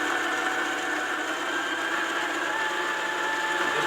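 Electric mixer working shortbread dough as plain flour and cornflour are added, giving a constant, close, whirring motor drone at steady speed, with no voices.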